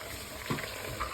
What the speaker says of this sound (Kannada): ಲಸೂನ್ ಆ್ಯಂಡ್ ನೀರುಳ್ಳಿ ಫ್ರೈ ಮಲ್ತದು